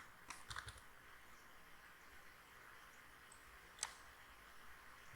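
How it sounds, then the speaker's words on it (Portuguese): Keys tapped on a computer keyboard while entering a student's email address, a quiet cluster of clicks near the start and one sharper tap later over a faint steady hiss. "Você pode digitar o endereço de e-mail de um aluno aqui."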